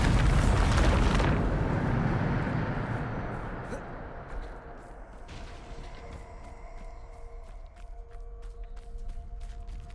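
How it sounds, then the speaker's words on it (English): A Bombarda spell blast in Hogwarts Legacy: one loud, deep explosion at the start whose roar trails off over several seconds, followed by quieter clinks and game ambience. "Bombarda."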